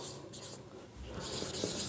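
Pen or marker scratching across paper while maths is written out during a lesson, a soft close rubbing with short strokes and pauses, no talk over it.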